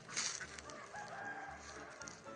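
Chickens cluck and call in a busy farmyard, a steady mix of bird voices with light background noise and no talking.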